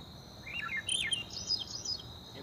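A talking car's synthetic voice imitates a bird with a series of high, quick chirps and tweets, fairly faint, over a soft background hiss.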